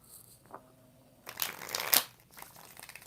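A deck of tarot cards being shuffled close by, a riffling burst in the middle, followed by softer handling and shuffling sounds.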